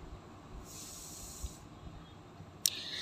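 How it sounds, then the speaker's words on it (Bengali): Chicken and spices fry in a pan with a quiet, steady sizzle. A brighter hiss swells for about a second partway through, and a short clink sounds near the end. "এবার এটার সঙ্গে মশলাটার সঙ্গে চিকেনটাকে ভালো করে কষিয়ে নিতে হবে।"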